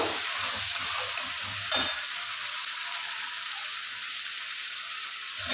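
Chili, ginger and onion paste masala frying in hot oil, a loud steady sizzle with a brief stir near the start, close and continuous with no talking.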